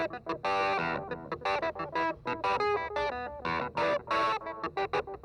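A clavinet runs through a MoogerFooger MF104 analog delay plug-in set to a dark slapback, giving a busy, rhythmic pattern of bright plucked notes with short echoes that fill the gaps, steady and up front for several seconds.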